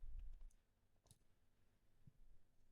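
Mouse click on the pull button while updating the N8N image, a couple of faint, brief clicks alone against quiet room noise.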